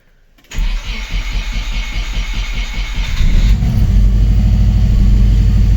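A swapped Subaru engine in a Volkswagen T3 bus cranks with a brief rhythmic starter churn, then catches and settles into a loud, close, steady idle that rises slightly in pitch, with no speech.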